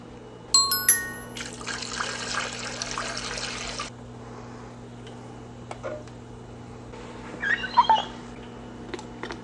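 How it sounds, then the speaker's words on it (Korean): Water pours into a planted aquarium tank during plant trimming, a loud rushing burst of a few seconds followed by quieter trickles and splashes over a steady hum. "그럼 이제 물을 좀 채워 놓을게요."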